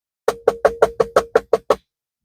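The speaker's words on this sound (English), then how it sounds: "Until I hear a knock on my door." Someone knocks hard on the door of a truck cab at night: nine firm, evenly spaced knocks in a fast steady rhythm, close and loud, followed by silence.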